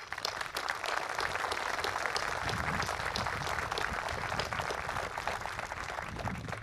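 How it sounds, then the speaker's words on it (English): Audience at a US Army Alaska (USARAK) military change of command ceremony breaking into sustained, dense applause, a steady wash of clapping that carries on throughout. "Give them a round of applause."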